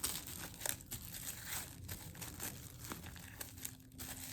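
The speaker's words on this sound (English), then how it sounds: "you're going to cover your bowl with the plastic wrap" Plastic wrap crinkling and rustling up close as it is pulled and pressed smoothly over a bowl, soft and continuous with a few sharper crackles.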